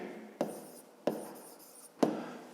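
A pen writes on paper in a quiet room, three distinct scratchy strokes spaced about a second apart, close and fairly soft.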